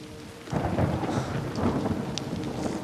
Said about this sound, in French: Eh ben voilà, il va pleuvoir.